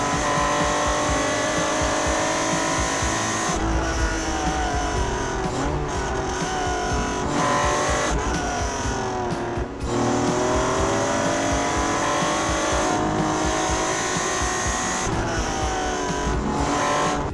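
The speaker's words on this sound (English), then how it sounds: "This car is a fun car to drive." A Honda Legend engine drones loudly and continuously, with repeated revs rising and falling as the vehicle drives, heard up close with no talking.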